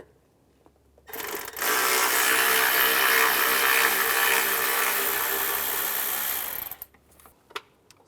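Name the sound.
T25 socket ratchet removing a bolt from a BMW X3 fuel line bracket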